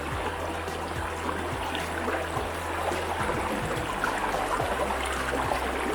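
Steady rush of water trickling and splashing over a sluice mat, continuous and close, with no talking.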